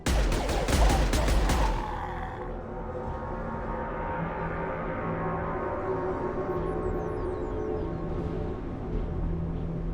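A rapid burst of gunfire opens a firefight in the Mass Effect 2 video game, followed by a lingering ringing tail and a low game ambience for the rest of the stretch.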